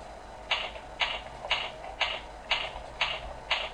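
Evenly spaced keystrokes on a computer keyboard entering a website address, about seven crisp, close clicks at a steady half-second rhythm over a quiet background.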